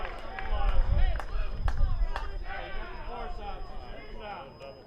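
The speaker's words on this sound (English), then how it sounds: "You might have heard chants from the crowd" Crowd noise from the stands at a college baseball game, RSU against Colorado Christian, with a rhythmic chanting swell and scattered claps, fairly loud and close, running beneath a commentator's talking.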